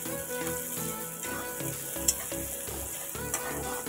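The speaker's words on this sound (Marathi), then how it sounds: "आता छान एकदम हलवून घ्यायचं त्याला." Two onions frying in a pan while being stirred, a steady close sizzle running throughout with soft scraping stir sounds layered over it.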